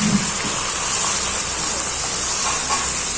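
Water from a glass is poured into a pan of Nellore-style brinjal and dry fish curry, a loud, steady close-up hiss and splash running throughout.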